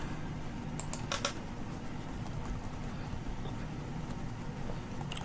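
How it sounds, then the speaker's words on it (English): Keyboard typing at a computer during Photoshop flyer design work, a few quick clustered keystrokes early on over a steady low background hum, fairly faint and close. "you press Ctrl J from the keyboard"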